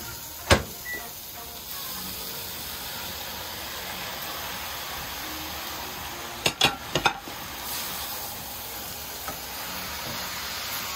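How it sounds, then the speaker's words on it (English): Tomatoes added to frying smoked herring, a steady close hiss of sizzling oil with a few sharp clanks and scrapes of a utensil against the pan. "Now I will add my tomatoes."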